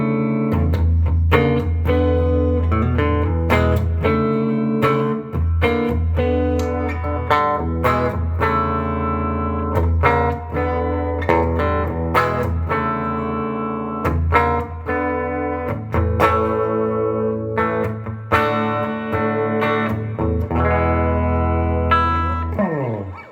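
Electric guitar played through a 13-watt Fender Excelsior tube amp with a 15-inch speaker and reverb switched on, a sustained run of loud, continuous chords and single notes with a steady strumming rhythm and no voices.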